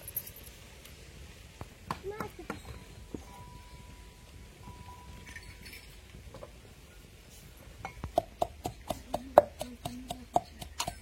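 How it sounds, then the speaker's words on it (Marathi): Spices, chillies and cumin pounded into a paste in a stone mortar and pestle for kothimbir vadi, sharp rhythmic thuds that quicken toward the end, with someone talking quietly in the background and earlier scattered knocks. "तर आता आपल्याला हा मसाला बारीक करून घ्यायचा आहे खलबत्त्यामध्ये"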